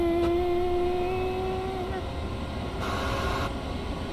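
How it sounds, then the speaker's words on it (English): A Metro-North commuter train in Train Sim World 2, with a steady loud rumble of running gear and a sustained electric motor whine that slides slowly in pitch, heard from on board without a break. "they sound just like an Electrostar"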